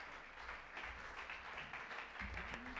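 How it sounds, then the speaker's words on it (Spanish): A church congregation gives a round of clapping as an offering to the Lord, faint and distant with low rumble and a brief tonal hum underneath. "Demos una ofrenda de palmas al Señor."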